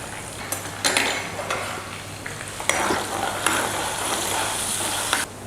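Chopped ginger, curry leaves and asafoetida frying in hot oil for coconut rice, giving a continuous close sizzle with a few sharp scrapes and clinks from a spoon against the pan.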